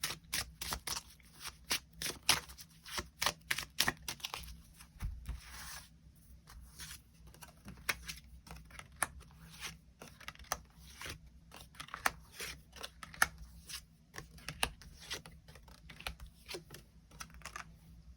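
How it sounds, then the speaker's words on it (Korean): Tarot cards being shuffled and drawn, a rapid run of crisp card flicks and riffles that tapers into scattered slaps and slides as individual cards are pulled and laid down, close and clear with no talking. "추가 카드로 일별로 월요일부터 일요일까지 어떤 하루를 보내게 될지 추가 카드 뽑아보도록 하겠습니다"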